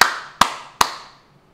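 Three sharp, evenly spaced hand claps ring out close and loud during a music video reaction, each snap decaying quickly before fading to silence.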